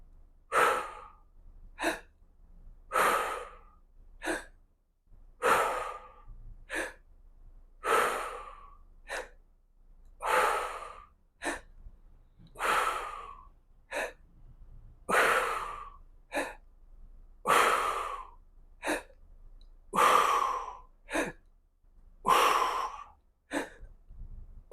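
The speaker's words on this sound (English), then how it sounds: "Take a full breath in. And let's breathe out" Deep workout breaths, slow rhythmic inhales and exhales repeating about sixteen times at an even pace, close and fairly soft, with no talking.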